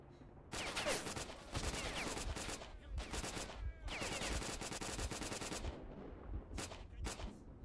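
Rapid automatic gunfire from a weapon in the video game S.T.A.L.K.E.R. comes in long sustained bursts with short pauses, dense and continuous.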